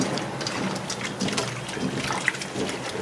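Water running and splashing over cut fish steaks being washed with white distilled vinegar, a steady close trickle and slosh with faint handling sounds throughout.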